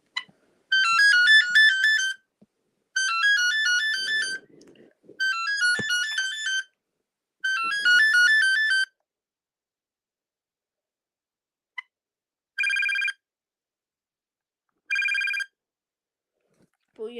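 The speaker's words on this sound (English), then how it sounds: "But yeah, here are the ringers on it." IP phone ringers chirp in four evenly spaced electronic bursts, and after a pause two shorter bursts follow. They sound close and clear, with brief faint voice sounds in between.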